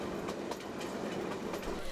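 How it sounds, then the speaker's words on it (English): A passenger train rolling along the rails in 1999 Tanzania, descending toward Kigoma, gives a continuous rumbling clatter with rhythmic wheel clicks on the track joints, close and steady throughout. "as the train descends in altitude on the final stretch to Kigoma"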